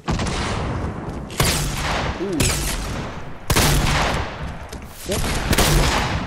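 Fortnite gunfire comes in repeated bursts of rapid, sharp shots separated by brief pauses, loud and close, while players talk briefly between the volleys.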